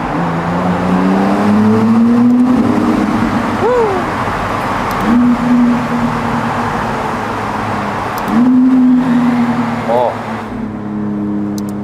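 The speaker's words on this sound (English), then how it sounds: "V6 waking up in the tunnels." McLaren Artura Spider's V6 engine accelerating through tunnels, a loud droning note climbing in pitch through a gear, dropping at a shift, then rising again, with a voice talking over parts of it.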